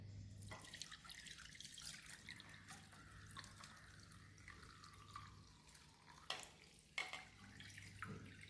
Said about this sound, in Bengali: এবার এটাকে ছাঁকনি দিয়ে জলটাকে ছেঁকে নেব।